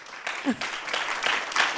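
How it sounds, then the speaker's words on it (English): Symposium audience giving a round of applause to a panel, a brief burst of clapping with a voice briefly heard near the start. "Let's give a round of applause to each of our brilliant panelists."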